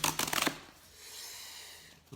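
A zip-style tear strip on a Waxwork record package is pulled open, a quick burst of ripping and rustling up close, followed by a softer lingering crinkle of the wrapping, with no talk.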